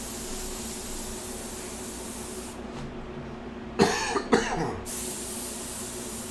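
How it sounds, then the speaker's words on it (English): Airbrush spraying paint during live hair painting, a steady faint hiss of air throughout, with a few short louder sputtering bursts near the end. "You might hear the airbrush."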